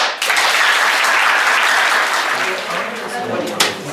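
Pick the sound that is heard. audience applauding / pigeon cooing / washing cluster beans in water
audience applauding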